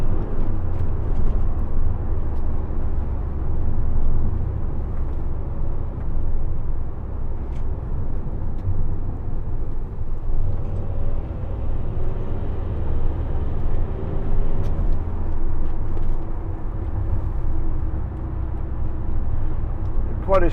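A 2015 Toyota ProAce 2.0 HDi 1200 L2H1 panel van drives along with a steady low engine drone and road rumble, constant and close, cabin noise throughout with no clear speech.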